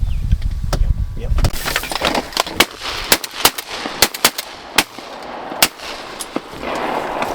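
Shotguns firing during a duck hunt in a flooded milo field in North East Texas, a rapid volley of sharp, loud blasts spaced over several seconds, with hunters talking between and over the shots.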